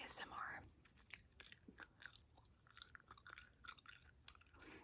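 Close, soft gum chewing in a quiet ASMR setting, with irregular wet smacks and clicks near the microphone and no clear talking.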